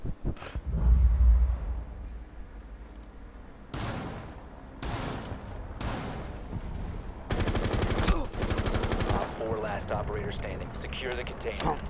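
Video game gunfire from a player on a roof shooting into the air: several short bursts of shots, then a long, rapid, sustained volley, loud and close, with voices talking over parts of it.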